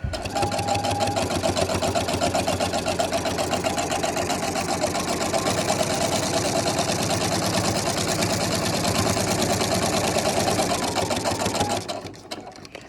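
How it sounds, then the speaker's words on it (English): A sewing machine fitted with a walking foot attachment runs steadily at high speed with a rapid mechanical chatter, loud and continuous, then stops abruptly near the end. "if you have a regular stitching sewing machine and you're working with fabric like this"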